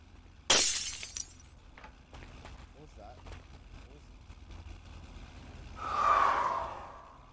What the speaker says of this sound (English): I accidentally played a horn and then followed by glass breaking